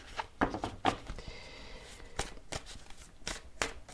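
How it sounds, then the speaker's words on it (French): Oracle cards are drawn from a deck and handled, giving several light, crisp card snaps and brief riffling rustles, close and quiet against a faint room background. "Là, on va prendre 3 cartes énergie de l'oracle de Monsieur D"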